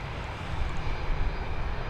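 A Boeing 737 departing Dublin Airport gives off a deep, rumbling engine roar that swells slightly mid-way, heard from a moderate distance as a steady low drone with no speech over it.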